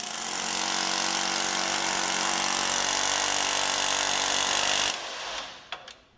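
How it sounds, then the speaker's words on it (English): An SP Tools 68600 ball joint air hammer drives a ball joint into a steering knuckle, a loud continuous pneumatic rattling for about five seconds that stops abruptly and leaves brief faint knocks and clanks. "drive it into the steering knuckle until the ball joint is fully seated"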